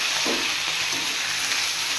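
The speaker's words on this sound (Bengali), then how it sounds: "লবণ হলুদ দিয়ে লাল লাল করে ভেজে নেব।" New potatoes frying in a pan with salt and turmeric give off a steady, close, loud sizzle that runs unbroken for the whole stretch, with no voices.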